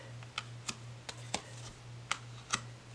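Oracle cards from a dictionary-inspired deck shuffled by hand in a quiet room, giving a handful of soft, separate riffle snaps and taps spread over a few seconds under a low steady hum.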